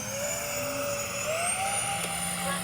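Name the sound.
X-Fly C-17 Globemaster RC jet slow low flyby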